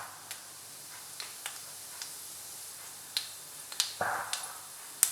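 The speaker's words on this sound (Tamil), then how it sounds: "எண்ணெயில் கடுகு சேர்த்துக்கிறேன். கடுகு பொரிய ஆரம்பிச்சிருச்சு." Mustard seeds sputter in hot oil while a quick rice dish cooks, with scattered sharp pops and crackles at irregular intervals over a faint sizzle and one louder spit near the end.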